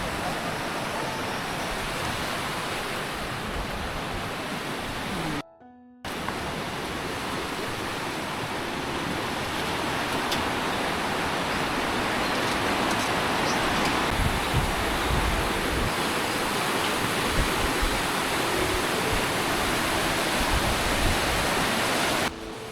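A river with small rapids near Tachogang Lhakhang in Bhutan gives a loud, steady rush of flowing water that fills the whole recording with little change, cut only by one short gap of silence.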